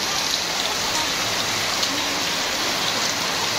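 Heavy rain pours down steadily in a village, a dense, even hiss of drops striking surfaces, close and constant with no voices over it.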